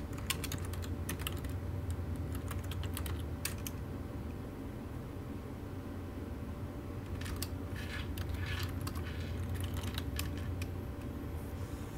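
Fingers typing a terminal command on a computer keyboard, with bursts of crisp key clicks up close, a quiet pause in the middle, then more clustered keystrokes over a low steady hum.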